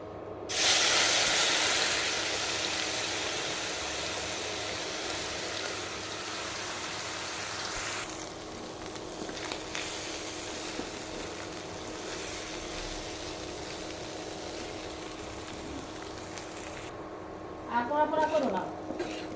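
Spiced shrimp coated with turmeric, chili, garlic paste, salt and green chili hits hot oil in a wok, bursting into a loud sizzling hiss that settles into steady frying, with talk over it and a brief clatter near the end.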